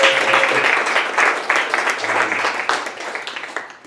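Audience applause for an editor at a fiction reading event, a dense, steady wash of many hands clapping that fills the room and slowly tapers off toward the end.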